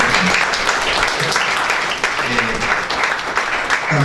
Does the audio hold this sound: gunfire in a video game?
no